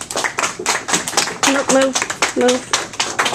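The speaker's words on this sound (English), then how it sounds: "All right, let's give him an applause." A classroom of students gives a classmate a round of applause: quick, scattered hand claps, close and fairly loud, mixed with voices talking over them.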